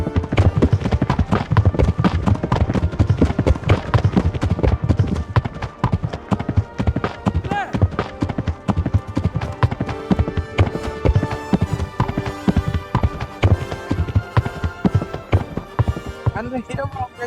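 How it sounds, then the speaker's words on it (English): Horses gallop in Kingdom Come: Deliverance with steady, loud clip-clop hoofbeats across the whole stretch, layered with game music and voices talking over them. "The sounds of those horses were loud"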